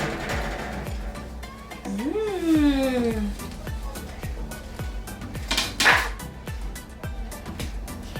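A pan of peanut butter pumpkin spice cookies comes out of a home oven with metallic clanks and a scraping slide, a rising squeak midway and soft ticking knocks in the background.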